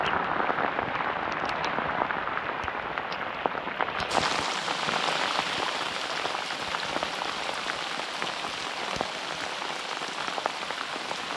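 Heavy summer rain pours onto the River Trent during a downpour at a fishing spot, a dense, steady hiss of close drops that continues unbroken from start to finish.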